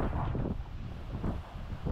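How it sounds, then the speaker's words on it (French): Wind gusts buffet the microphone on a wave-swept seafront in Tenerife, a loud low rumble swelling and easing in uneven surges with no speech. "Et un bord de mer balayé par les vagues, par le vent."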